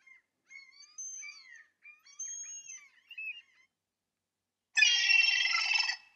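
Seagull calls from a sound effect library, several harsh squealing cries in quick sequence, followed by a loud burst of dense noisy screeching.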